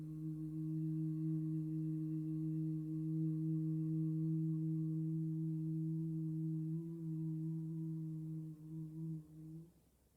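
A person breathing out with a long, steady hum as a breathing exercise, one sustained close tone held for about nine seconds before trailing off.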